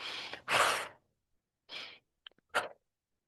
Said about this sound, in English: Inhale through your nose and then blow out through your mouth.